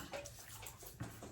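Tap water runs softly and steadily into a basin while a man wets his face before a shave, faint and close with small splashes.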